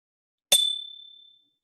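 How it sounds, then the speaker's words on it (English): A small bell, struck once to open an online worship service, gives a crisp metallic strike followed by a pure ringing tone that decays over about a second in near silence. "I start the worship with the singing of the bell"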